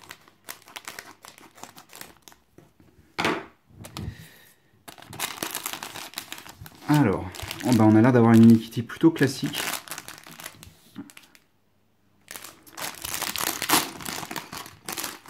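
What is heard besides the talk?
opening a plastic Unikitty blind-bag sachet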